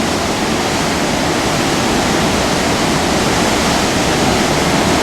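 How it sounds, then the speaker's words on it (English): Floodwater roars over dam spillway gates during a great flood in Newmarket, New Hampshire: a loud, dense, unbroken rush with no pauses and no voices. "It looks like the water is actually coming over the top of the spillway gates, besides going through the spillways."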